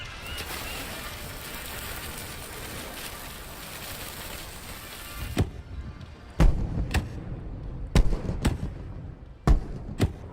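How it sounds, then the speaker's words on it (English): Fireworks launched in the VR game The Gallery: a long crackling, hissing burst gives way to several separate sharp booming pops that ring out loudly one after another. "It really feels like I'm shooting off a firework and looking up at it."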